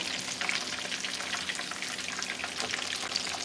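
Thin pieces of food sizzle in a frying pan just after being flipped, a steady bright crackle of hot oil with scattered pops, fairly quiet and close, with no talking.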